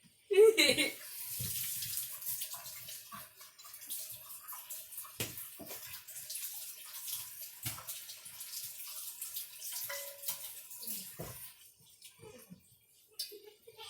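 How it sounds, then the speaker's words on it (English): Running tap water pours steadily into a sink while a spoon used for frying Oreos in oil is washed beneath it, with occasional clinks and splashes. A voice speaks briefly over the water. "Let me wash this for a second."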